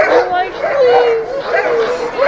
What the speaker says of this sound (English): Once one dog barks and notices it.